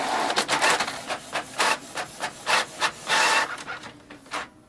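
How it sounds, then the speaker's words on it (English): A Canon Pixma TS700 inkjet printer prints a document, its print head sweeping back and forth in a steady run of rasping, whirring passes with short pauses between, close and clear with no talking. "Here we can see the printer is easily connected and we can do the printing with it"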